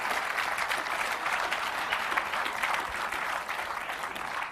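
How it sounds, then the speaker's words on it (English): A crowd breaks into a round of applause, a steady wash of many hands clapping at moderate volume for a few seconds, with no voice on top. "Give another big round of applause for that."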